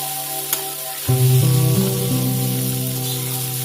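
Pasta being stirred with spices in a hot pan for egg pasta, a sudden loud sizzle and hiss that starts about a second in and continues steadily with scraping stir sounds, no talking.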